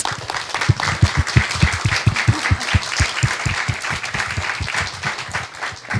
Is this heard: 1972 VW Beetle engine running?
no